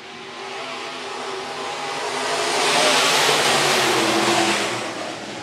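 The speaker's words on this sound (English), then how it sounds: "15 laps for your IMCA Modifieds about to fire off here out of corner number four." IMCA Modified dirt-track race cars fire off at the start of a 15-lap main at Phillips County Raceway, a loud, dense roar of many engines that builds to a peak mid-clip and then eases slightly.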